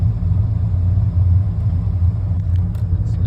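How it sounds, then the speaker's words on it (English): A 1986 Ford truck engine idles at about 800 RPM, a steady, loud low rumble heard close up, with a few faint clicks near the end. "So idles right at about 800 RPM."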